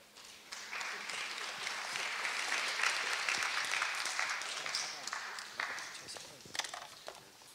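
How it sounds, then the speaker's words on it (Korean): A lecture audience at a Korea University lab safety training session breaks into sustained applause to welcome a professor, a dense wash of clapping that swells after a quiet start and runs steadily for several seconds before tapering. "큰 박수로 맞이해 주시기 바랍니다"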